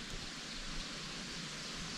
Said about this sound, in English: Light rain is falling.